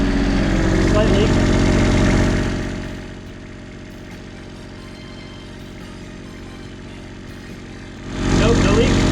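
A portable generator idles steadily right after an oil change, a loud constant mid-range engine drone that softens for a few seconds in the middle before swelling again at the end.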